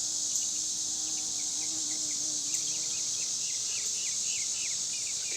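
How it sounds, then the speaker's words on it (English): Bees buzz around plants in an outdoor garden, a soft, steady drone that wavers in pitch as they move close by, over a high constant insect chorus and no talking. "Bees are in here buzzing around."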